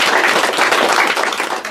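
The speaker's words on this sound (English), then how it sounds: "I think she deserves a round of applause for that." A short, loud burst of crowd applause at a house-building gathering in Picton St, Diamond Village, with dense clapping from start to finish.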